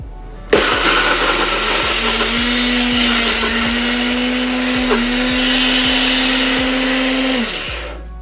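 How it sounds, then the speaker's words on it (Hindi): A kitchen blender whirs through cut amla (Indian gooseberries), starting abruptly, holding a loud, steady motor drone with a faint regular ticking for about seven seconds, then winding down. "ये रहे मेरे पास आंवले जो मैंने कट करके रखे हैं इन सबको हम ब्लेंड करेंगे अभी"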